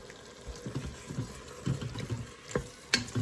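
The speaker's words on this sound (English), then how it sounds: "Now I pour in a little bit of beef broth just to kind of scrape the bottom to prevent the burn warning." Beef broth poured into a hot Instant Pot over browned hamburger meat, with a sizzling, bubbling wash of liquid and scattered scraping clinks at the bottom of the pot, close up.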